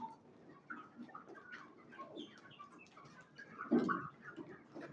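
Desi chickens kept in a winter room warmed with heaters and bulbs, giving soft scattered clucks and chirps at moderate distance over a steady low room hum, with one louder call near the end.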